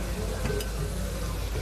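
White wine vinegar hissing and sizzling as it hits a hot pan, a steady close crackle holding for the whole moment with no talk over it.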